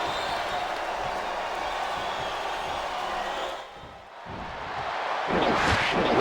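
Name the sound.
crowd chanting in video game WWE Smackdown vs Raw 2008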